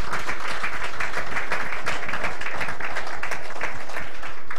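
Sustained crowd applause for a government minister at a national workshop opening ceremony, loud and dense with continuous overlapping hand claps filling the room.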